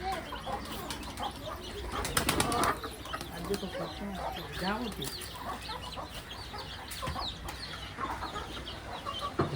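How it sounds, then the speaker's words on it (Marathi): Pigeons on a house terrace flutter and coo close by, with bursts of flapping wings and soft bird calls over steady outdoor background noise. "कबूतर हे जे आहेत दाखवायला आणलं आहे"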